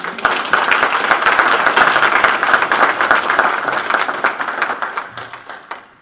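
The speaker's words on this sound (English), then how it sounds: "Thank you all for that applause." Audience applause welcoming a chancellor finalist at a campus talk, loud, dense clapping that holds steady for several seconds, then thins out and fades near the end.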